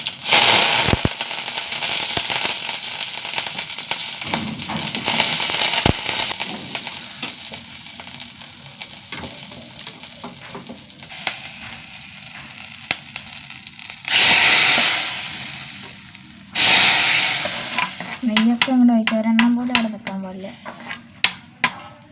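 Mustard seeds, green chillies and curry leaves crackle and sizzle in hot oil with a steady frying hiss, broken by a few louder bursts of spattering and the clink of a utensil near the end.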